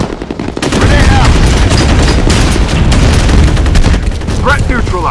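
A grenade blast and rapid gunfire in a video game, a dense, loud stream of shots and booms running continuously with brief voice bits over the top.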